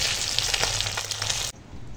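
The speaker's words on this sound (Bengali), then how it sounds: "এই মাছগুলো ভাজা হয়ে গেছে একদম, দেখো সুন্দর করে লাল লাল করে ভেজে নিয়েছি" Bhola fish fry in hot oil until deep red and crisp, making a loud, close, dense sizzle that cuts off abruptly to a fainter hiss after about a second and a half.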